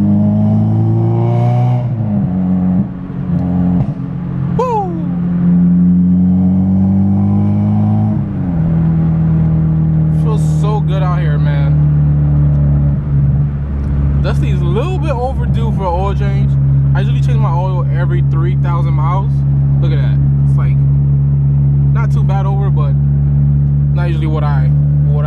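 A Honda Civic Si engine revs and accelerates through its gears in a continuous, loud drone from inside the car on a chilly day, with pitch sweeps at each shift and people talking over it.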